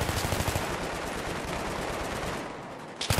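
M16 rifle fire in Battlefield 3 rattles in rapid bursts amid dense, continuous battle noise, loud and sustained, easing briefly before more shots near the end.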